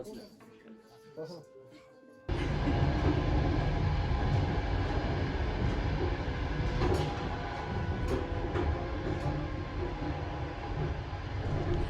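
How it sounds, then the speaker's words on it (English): After a quiet moment, a passenger train's steady roar kicks in and continues loudly on the line from Tashkent to Bukhara, Uzbekistan, with rumbling wheels and faint rattles throughout. "Boarding the train to Bukhara."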